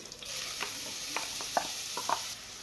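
Grated onion, black pepper, paprika and a cube of butter go into hot oil in a pot, giving a soft steady sizzle broken by several light scraping stirs of a spoon.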